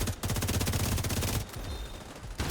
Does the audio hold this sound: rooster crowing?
no